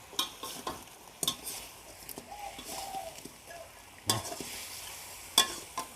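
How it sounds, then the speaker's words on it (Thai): Previously fried fish is stir-fried in a pan: soft background sizzle punctuated by repeated clacks and scrapes of a utensil against the pan, irregular and close. "ปลาที่เราทอดเมื่อกี้ครับ เอาลงไปผัดเลย"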